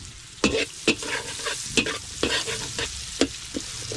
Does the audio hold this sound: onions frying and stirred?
yes